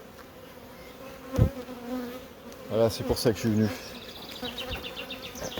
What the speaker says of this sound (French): Un bain d'abeilles.